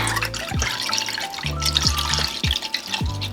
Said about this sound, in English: So after the butter melted, so I'm going to add some milk.